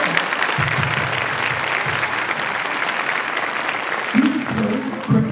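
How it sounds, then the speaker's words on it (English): Audience applause after a school upper elementary orchestra concert, a steady wash of clapping from a crowd that continues evenly throughout, with a few louder bursts near the end. "Can we give them another round of applause?"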